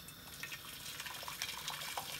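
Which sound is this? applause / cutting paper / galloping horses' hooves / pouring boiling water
pouring boiling water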